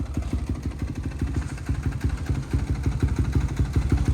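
A carbureted 2006 Honda CRF450R engine fitted in a trike idles close by with a rapid, uneven single-cylinder chug and light mechanical clatter, steady throughout and without voices.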